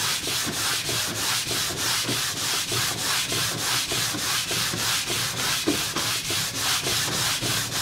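Aluminum trim being scrubbed with a Scotch-Brite pad and WD-40, a close, loud rhythmic back-and-forth rasping of about two strokes per second, continuous and steady with no voices.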